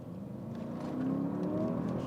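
Mercedes-AMG GLE63S with a 4-litre twin-turbo petrol V8 rising in pitch as the accelerator is pressed, a steady muffled revving heard from inside the cabin.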